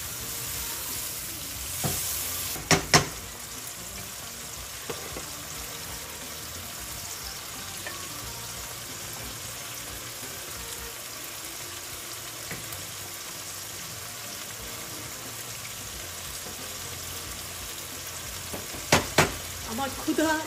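Sliced mushrooms, green beans, onion and chili frying in a hot pan, a steady close sizzle running throughout with brief clattering stirs near the start and end.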